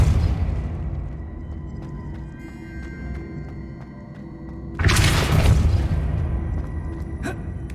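A Depulso push spell blasts off in the Hogwarts Legacy video game, a sudden loud whooshing burst with a crackling, shattering edge that cuts in sharply over a low ambient game bed and then trails into a sustained rumble.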